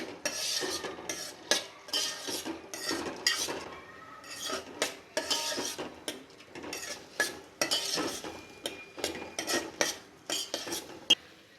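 Rice roasts over low heat in a pan for Gujarati doodh pak while a metal spoon stirs and scrapes it, making repeated close clinks and scrapes in an irregular rhythm over a faint sizzle.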